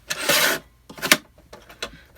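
Scissors or a blade cutting a strip off a paper journal cover, a few short rasping slices in quick succession, close and fairly quiet.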